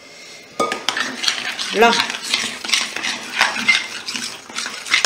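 A utensil clinks and scrapes against a bowl while a thick tiramisu mixture is stirred, giving loud, close, rapid knocks and rattles in an uneven rhythm, with a brief spoken word.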